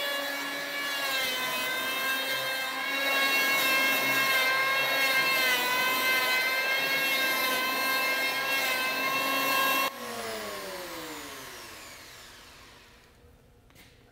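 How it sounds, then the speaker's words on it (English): A small hand plane rasps along a wooden keel piece in a boat-building shop, giving a steady, close, continuous shaving stroke that drops off sharply near the end. "I love using this little plane because it really does what you want it to do"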